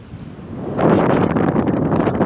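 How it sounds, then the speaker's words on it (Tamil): Strong wind blowing across a hillside near the Thalavadi and Thalamalai area, with a low steady rumble at first, then a loud, sustained roaring buffet against the microphone. "காற்று பாருங்கள் என்னமா அடிச்சிட்டு இருக்குன்னு"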